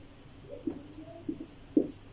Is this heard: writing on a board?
yes